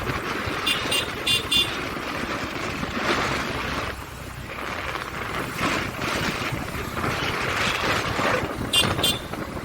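Motorbike riding along a road through traffic on a rainy day, engine rumble and wind noise with passing vehicles and horn honks, steady and close.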